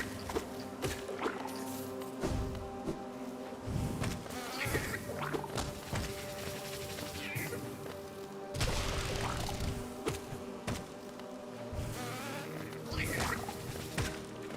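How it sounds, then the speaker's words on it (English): A swarm of bees summoned by a boss in Hollow Knight creates a steady, layered buzzing drone with scattered rushing bursts, moderately loud and continuous, with no voices. "he summons a swarm of other bees"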